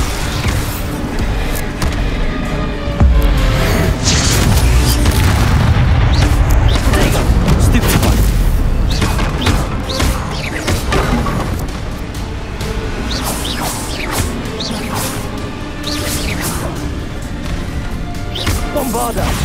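Bombarda explosion spells in the video game Hogwarts Legacy, a dense barrage of booming blasts and crashing impacts mixed with other spell effects and battle noise, loud and continuous throughout.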